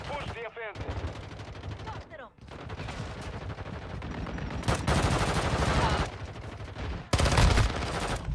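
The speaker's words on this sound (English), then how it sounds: "There's three guys shooting that way." Rapid bursts of gunfire from several shooters in the video game Arena Breakout, loud and close, with dense automatic volleys and sharp single cracks layered over each other.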